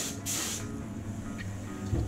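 An aerosol can sprays varnish onto forged carbon fibre in a short close hissing burst, then quiet with faint clicks and a small knock at the end.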